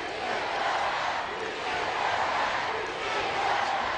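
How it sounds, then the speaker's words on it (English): Capacity crowd in a Laredo wrestling arena chanting "Si se puede" during a Rey Mysterio versus Drew McIntyre match, a dense, steady roar of many voices filling the whole stretch with rhythmic swells. "This capacity crowd in Laredo chanting "Si se puede.""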